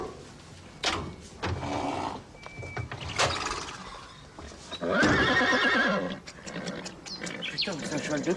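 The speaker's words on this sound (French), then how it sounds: "c'est un cheval de course ou quoi?" A horse whinnies loudly and nearby several times, with snorts and shuffling in between, and a second long neigh midway through.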